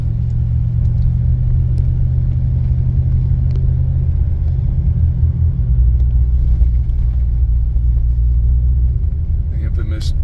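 A car driving along a road to a trailhead, heard from inside as a loud, steady low engine and tire rumble that shifts in pitch midway, with voices talking over it.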